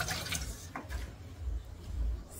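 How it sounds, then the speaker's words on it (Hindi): Hot water splashes and pours into greasy dishes that held cream, a continuous close liquid rush with gurgling and small clinks, no talk over it. "अब सारे बर्तनों में ये पानी इस तरह से डाल दूँगी"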